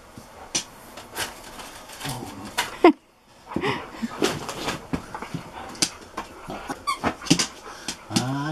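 A husky whimpers, yips and grumbles in a long back-and-forth of vocalizing, with short bursts and whines close to the mic and a brief silent gap partway through.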